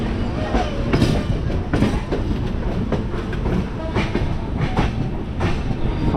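A second-class Indian train pulls slowly into New Delhi railway station with a rhythmic clickety-clack of wheels over rail joints. The carriage rumbles steadily, and faint voices sound in the background.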